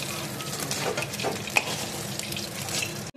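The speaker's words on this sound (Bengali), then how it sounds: "দেখো তেলটা খুব গরম করে আমি এবার দিয়ে দিচ্ছি মাছগুলো" Pieces of katla fish dropped into very hot oil in a Bengali kitchen, giving a steady close hiss and crackle of frying with a few sharp pops, no talking.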